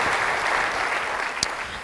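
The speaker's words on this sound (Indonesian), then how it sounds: "beri tepuk tangan yang baik bagi dia" Congregation applauding during a church sermon, a full, sustained burst of many hands clapping together, loud and even, with one sharper clap standing out near the end.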